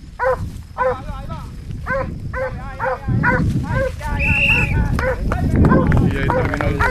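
A hunting dog in a trail-following competition barks in quick repeated bursts while tracking a wild boar scent, close and loud, with someone talking over much of it.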